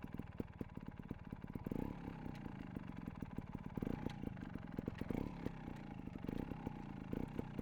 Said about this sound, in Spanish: vamos a ir metiendo marchas para ver cómo es de estable el motor